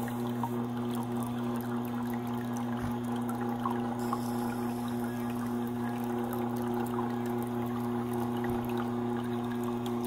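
A knife is slowly ground against a wet Tormek T8 waterstone, producing a steady, faint hum from the machine with a soft, continuous watery grinding under it and no talk.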